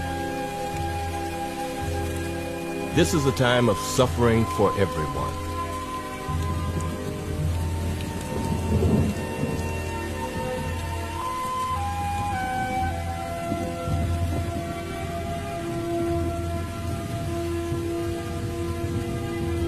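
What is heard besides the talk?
cold heavy rain falling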